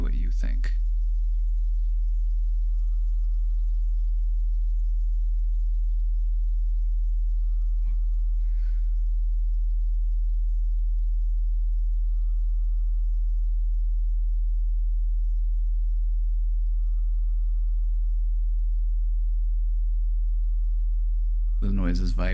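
Soft, steady sine-wave tones play through headphones, each pure tone holding for a few seconds before the next begins, over a constant low hum.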